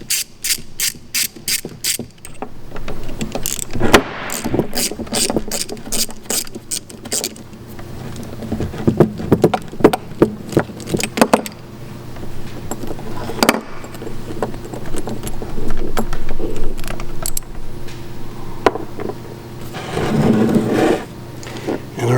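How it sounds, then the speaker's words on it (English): Allen screws backed out of hydraulic valve plates with a ratcheting hex wrench, giving repeated close, crisp ratchet clicks in bursts with metallic tool handling and brief pauses between. "Next we'll remove the Allen screws that hold the"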